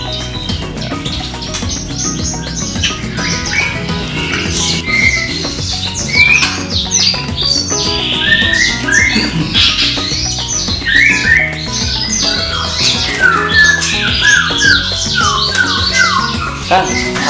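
Canaries, blackthroat type kept at a breeding setup, chirp and trill continuously in a busy overlapping chorus, with several birds singing close by at once.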